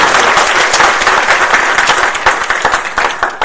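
Loud, dense applause from a large crowd, a continuous wash of clapping that begins to thin and turn patchier toward the end.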